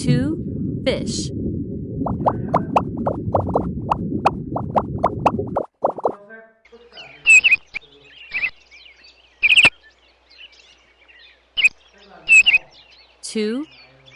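A bubbly rumble gives way to a series of short, bright chirps and tweets spaced out over several seconds, with brief speech at the start.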